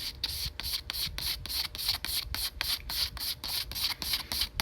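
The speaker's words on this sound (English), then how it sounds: "when I sand, I'll only do it one way" Fine 1200 grit sandpaper rubs across a surface in a fast, even back-and-forth rhythm of raspy strokes, close and steady, with no speech.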